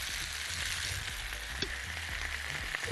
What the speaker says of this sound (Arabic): ادي الثوم على سمنة أو زيت زي ما تحبوا